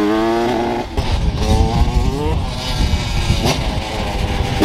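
A 2008 Husqvarna 125 CR motocross bike engine runs loud and close, its buzzing tone rising and falling with revs after a brief dip, steady throughout.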